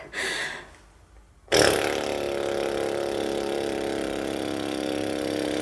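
A voice imitates a tractor with a lip trill during a vocal breathing exercise: a brief breathy onset, a short pause, then a loud, sustained buzzing flutter of the lips that continues steadily to the end.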